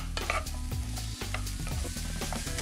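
Ground beef sizzles in olive oil in a hot pan, a loud, steady frying crackle broken by the scrape and clatter of stirring.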